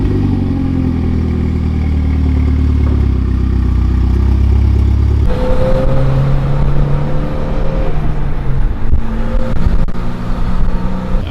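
A car engine idles and shifts nearby, then changes character as the vehicle rolls and settles, with some clatter; no talking.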